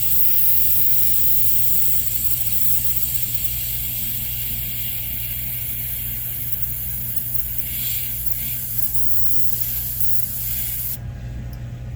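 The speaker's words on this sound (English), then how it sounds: "just going to go into the airbrush and catch that up as well." Airbrush spraying paint onto a Harley-Davidson fender, a steady close hiss of compressed air that runs unbroken for about eleven seconds and then cuts off.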